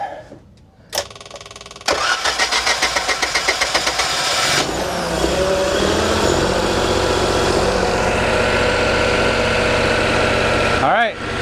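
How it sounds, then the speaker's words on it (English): A boat's generator cranks briefly, then catches and settles into a loud, steady close-up running drone with a rapid rhythmic knock, continuing alone for several seconds before a short voice at the end. "All right, we got a working generator."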